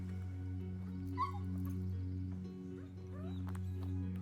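A dog on a walk whimpers and yips in short rising cries, with a couple of sharper barks, close by over a steady low hum.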